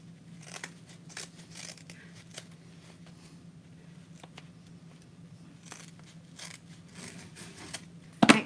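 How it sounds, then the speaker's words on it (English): Scissors snip an edge off a length of ribbon in a quiet room, several soft, close cuts in an uneven rhythm, followed by a louder rustle at the end. "Then you're going to cut an edge off this side."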